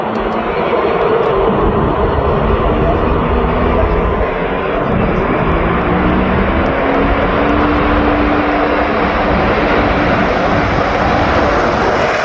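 Blue Angels jets pass at an air show at MCAS Miramar with engines in afterburner, a loud, continuous roaring rumble filling the whole stretch, with a faint shifting tone as they go by, under an announcer's voice.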